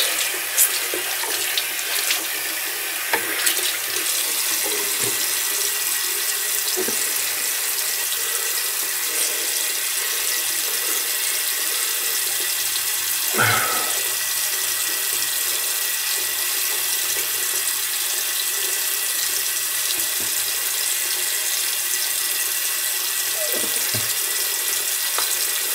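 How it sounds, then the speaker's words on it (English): Steady hiss of water running from a faucet, continuous and fairly close, with a few faint knocks and splashes along the way; no one speaks. "All right, cold water rinse."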